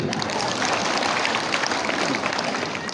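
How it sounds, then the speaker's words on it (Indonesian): Steady, dense applause from a crowd at an Isra Mi'raj religious lecture, filling the whole stretch without pause; a few voices are faintly mixed in. "Tepuk tangan dulu."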